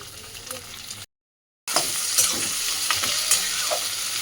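Onions, tomato and green chilli frying in a pan for chana masala, a loud close sizzle with scraping stirs, cut by a short silent gap before the frying resumes.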